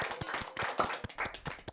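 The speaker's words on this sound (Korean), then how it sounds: "박수 일단" A small group in a studio gives a short burst of uneven clapping for a newly debuted idol group's mini album, with the claps close, loud and quickly fading.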